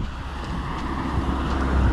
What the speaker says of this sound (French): La tempête, la pluie, le vent.